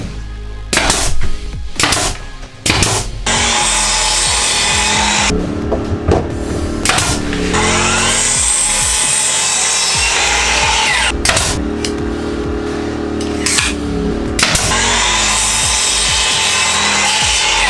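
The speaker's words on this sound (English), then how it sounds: "That took a little bit of tweaking with the jigsaw." A jigsaw cuts wooden trim to fit around a pipe while fitting out a garden shed bathroom, sawing loud and close in long continuous runs broken by short pauses.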